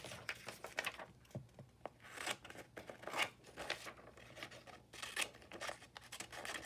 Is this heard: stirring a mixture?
no